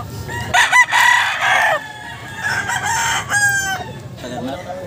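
A Boston Roundhead rooster crows loudly and close at a pet market, with several harsh crowing bursts and clucks while people talk nearby.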